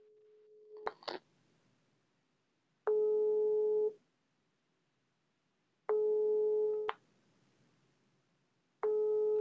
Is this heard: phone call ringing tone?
yes